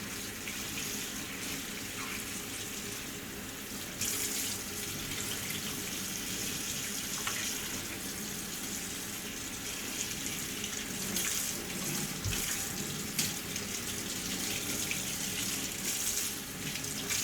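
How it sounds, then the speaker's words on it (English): Water runs steadily from a tap into a sink while hands and arms are rinsed during a surgical scrub, a continuous close splashing hiss with small shifts as the flow is broken. "Now when I'm rinsing, I am rinsing from top of my fingers down my arms."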